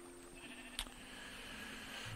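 Sheep bleat in Minecraft on a completed sheep farm, a short faint bleat over a steady low background hum.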